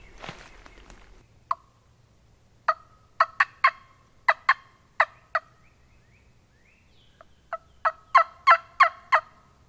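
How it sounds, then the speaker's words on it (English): Wild turkey gobbling from the ground in the Alabama woods during spring hunting season, several quick rattling gobble bursts in two clusters, moderately distant against a quiet background. "he has gobbled just a few times on the ground"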